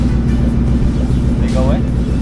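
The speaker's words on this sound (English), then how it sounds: "what's this sound right here? It's a throttle bearing." Ford Mustang with a worn throttle bearing, its engine running in a loud, steady, close drone of low harmonic hum, with a voice speaking over it.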